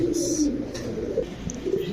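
Soft Sylheti Kamagar pigeon cooing close by, a low repeated burble over a steady murmur of background noise, with a brief higher chirp early on.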